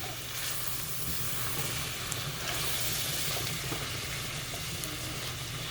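Chopped vegetables and partly cooked potatoes sauté with flour in a pan for clam chowder, making a loud, continuous sizzle and hiss close up that runs without a break, with no voices.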